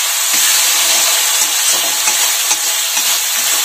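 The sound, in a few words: frying Kashmiri chili powder spice paste in oil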